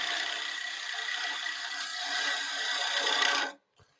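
A woodturning gouge cuts a three-cornered wooden bowl spinning on a lathe, giving a steady close rasping, chattering scrape that runs for about three and a half seconds and then stops abruptly, with a faint knock just after.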